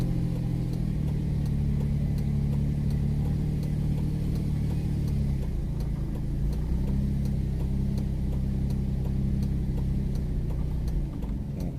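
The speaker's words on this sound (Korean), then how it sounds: "엔진 소리를 좀 내주면 강아지들이 좀 피하더라고요." A vehicle's engine is revved on a steep rural slope to shoo dogs aside, a continuous low mid-range drone with a shift in pitch midway, fairly close with no talking.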